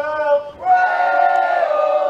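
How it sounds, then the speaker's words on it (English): New South Wales supporters cheer in the stands at an under-17 girls national softball championship game, a sustained group shout of voices that swells after a short pause and holds loud and near. "we hear the New South Wales supporters in the crowd starting to get a little bit vocal"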